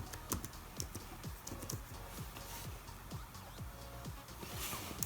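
Quick, close clicking of keys on a MacBook keyboard, a busy run of light taps with a soft background hiss.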